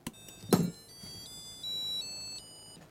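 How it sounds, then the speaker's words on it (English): An electronic badge running its power-on self-test, a short sequence of thin electronic beeps and steady tones stepping between pitches after a soft thunk, quiet and close. "you're going to immediately hear the post, the power on self-test"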